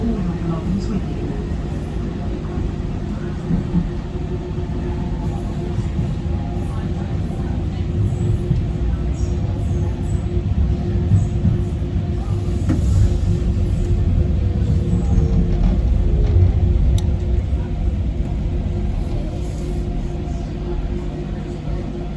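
Automatic Docklands Light Railway train running from Stratford toward Canary Wharf, a steady low rumble of wheels and motors throughout with a slight swell midway, heard from inside the carriage.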